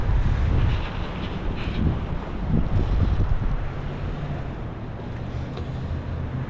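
Heavy windstorm gusts in the Ohio Valley batter the microphone in a loud, rumbling roar that surges and eases slightly but never stops.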